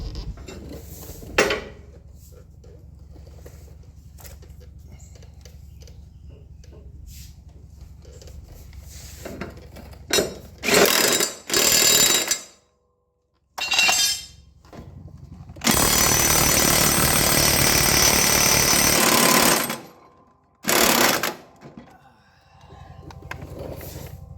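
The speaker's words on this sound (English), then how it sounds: "I do want to be careful using this impact because I don't want to mess up these bolt heads" Impact wrench driving a 15/16 socket on stubborn bolt heads, heard as several loud, separate bursts of rattling hammering, the longest running about four seconds, with quieter clanks between them.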